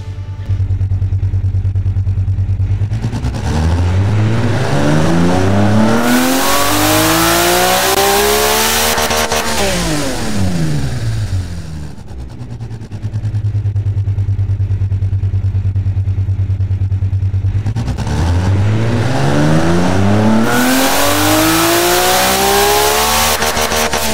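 A German-built 2JZ engine in the Automation car-building game revs through two full pulls, climbing loud and harmonically rich to the limiter, dropping off, idling briefly, then sweeping up again, close and continuous with no talking.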